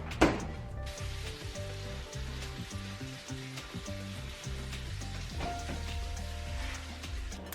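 Bacon and eggs frying in a pan for breakfast, a steady close crackling sizzle with soft pops, accompanied by faint background tones.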